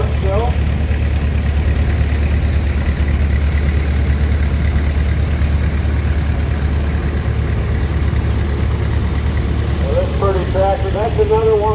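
A 1940 Allis-Chalmers B vintage tractor engine runs steadily and loudly at idle throughout, a low continuous rumble with a few brief higher tones near the end.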